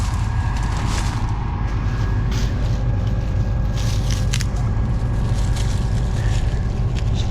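Farm machine engine running close by, a loud, dense, steady rumble with a constant mechanical roar and scattered rattles throughout.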